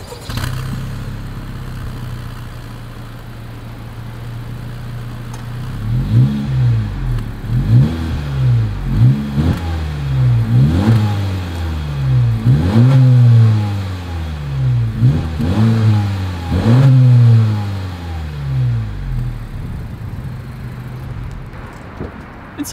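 A 2021 Honda Civic hatchback Sport with a center-mounted dual-tip exhaust idles briefly, then revs in a series of about ten sharp throttle blips that rise and fall, loud and close, before settling back to idle.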